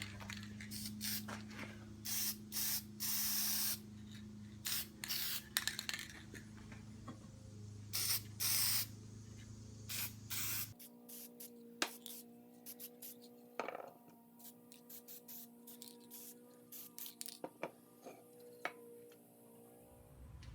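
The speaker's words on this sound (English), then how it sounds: "I'm just gonna hit them with some clear coat" Clear coat sprayed from an aerosol can onto cleaned locking levers of an Atlas 73 drill press, a series of short hissing bursts of varying length, close and loud, with quiet clicks and handling sounds between, no talking.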